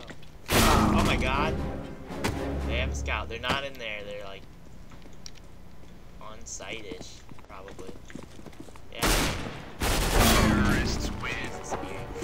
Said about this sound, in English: I hear there's guns over there